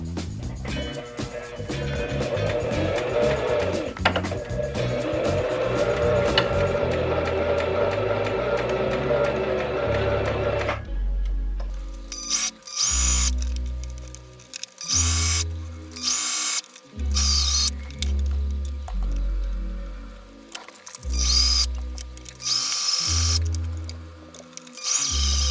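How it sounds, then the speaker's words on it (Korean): Sewing machine stitching a homemade fabric face mask, running in bursts of rapid mechanical whirring, preceded by a stretch of softer broadband noise. "저는 빠르게 재봉틀로 재봉질을 해보도록 할게요"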